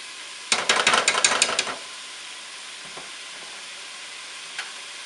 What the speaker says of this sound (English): Keep stirring it. Make sure you want to brown it evenly.